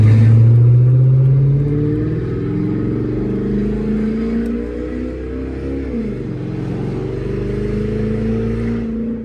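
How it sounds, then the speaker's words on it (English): A slow but very loud car revs hard at a cars-and-coffee meet. Its engine snarls close by, starting with a deep boom, then running on as a steady droning roar with a quick drop and pickup in revs partway through. "This car is so slow but so loud."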